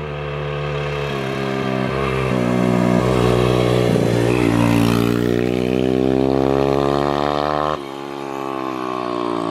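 A turbocharged Loncin engine revs hard close by, its pitch climbing and then dropping back as the throttle is released, loud and alone with no talk over it.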